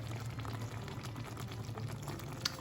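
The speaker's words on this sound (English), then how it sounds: "it's boiling away and it's really smelling good" Lemongrass water boiling in a cooking pot, a steady low bubbling and simmering that holds evenly throughout, faint and close, with a single brief clink near the end and no talking.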